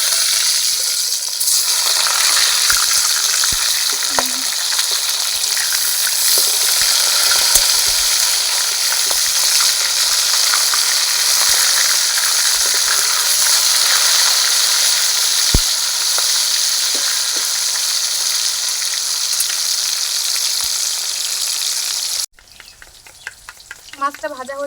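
Pieces of katla fish fry in hot oil with a loud, dense, steady sizzle that stays close and even, then cuts off near the end, leaving a few light clinks and rattles.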